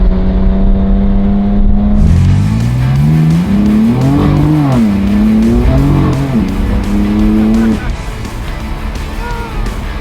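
Rear-wheel-drive car pinned hard at a dealership, the engine and exhaust note rising loudly through the revs with a gear change midway, then settling, with tire noise underneath and close and prominent throughout.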